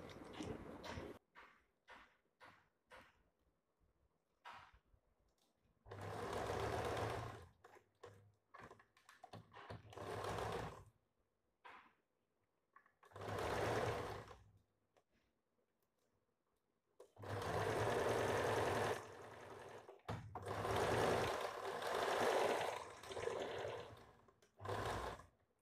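A sewing machine stitches a blouse belt in several bursts of steady mechanical whirring, separated by short pauses filled with light clicks and fabric handling, all close up.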